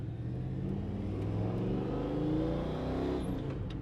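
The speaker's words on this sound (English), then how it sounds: "we'll run it through the gears here for you. I'll do some shifting. Thing's got great pickup. Nothing like a big block Chevy motor." A deep, rumbling big block Chevy V8 in a 1987 Chevrolet R20 Suburban drones steadily as the vehicle drives, with the motor's pitch rising and falling through the gears.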